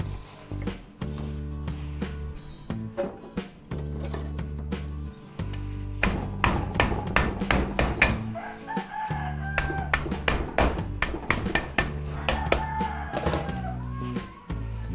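Garlic cloves wrapped in plastic are pounded for pork bopis: repeated sharp, close thuds in irregular bursts, with short pauses, while roosters crow in the background.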